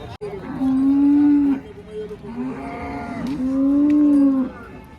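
Cows moo loudly in long, low drawn-out calls, three of them in a row, close by over a busy outdoor murmur at the Kopargaon cattle market.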